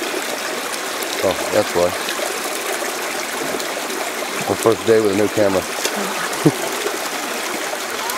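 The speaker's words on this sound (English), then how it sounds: "You can pour the water in" Water trickles and splashes steadily into a gold-panning sluice, a continuous stream close by, while a person talks over it with brief knocks in between.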